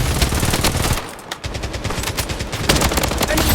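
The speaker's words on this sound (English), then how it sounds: "Taking fire!" Automatic gunfire in the shooter game Blood Strike, loud rapid bursts of machine-gun shots close by, with a short lull before the firing picks up again, game voice lines faintly mixed in.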